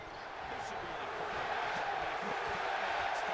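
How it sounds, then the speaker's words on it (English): A video game arena crowd in WWE 2K19 roars and cheers for the wrestler Rusev, a dense, steady wall of crowd noise that holds at a constant level throughout. "the crowd's going crazy for Rusev Day"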